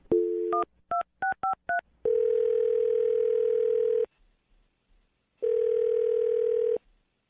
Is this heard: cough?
no